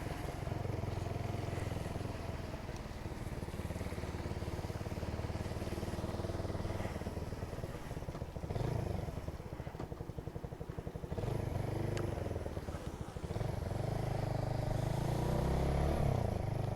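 Motorcycle engine running steadily on the road, a continuous loud drone with wind and road rumble and small shifts in pitch as the bike moves at low speed, no talk.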